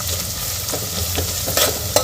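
Green chillies slit lengthwise and ginger-garlic paste sautéing in hot oil for Maharashtrian masale bhat, a steady close sizzle broken by a few soft stirring scrapes, with no voices.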